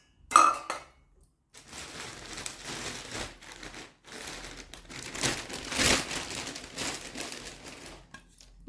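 A lid goes onto an IKEA bowl with a sharp clatter of tableware, followed by quieter crinkling, rustling and light knocks as items are handled nearby.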